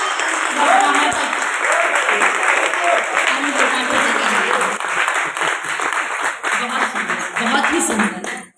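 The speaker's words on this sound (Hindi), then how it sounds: "जोरदार तालियों की" An audience at a Hindi poetry gathering and mushaira breaks into strong applause, a loud, dense, sustained roar of clapping in a hall, fading out at the very end.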